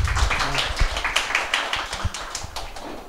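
A lecture audience claps after a talk: a short burst of fairly close, uneven hand clapping from a small group, fading slightly toward the end.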